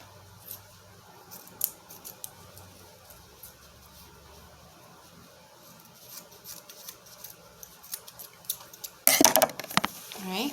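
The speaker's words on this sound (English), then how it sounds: "I'm gonna trim down closer to the edges of the buttons." Scissors trimming fabric close around buttons cut from a denim shirt: small scattered snips and clicks, faint and close, with a louder burst of handling noise near the end.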